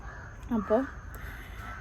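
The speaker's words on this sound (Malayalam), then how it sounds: "കാക്കയുടെ സൗണ്ട് കേൾക്കുന്നുണ്ട് കേട്ടോ" Crows caw outdoors, two quick close calls in a row, with a voice briefly audible.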